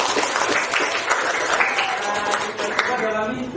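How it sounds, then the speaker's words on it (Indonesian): A classroom audience breaks into dense, sustained clapping that fills the room evenly for several seconds, with voices mixed in. "Baik, kita kasih aplaus."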